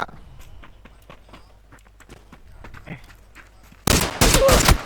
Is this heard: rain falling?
no